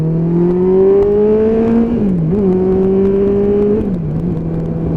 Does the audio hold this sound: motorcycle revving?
yes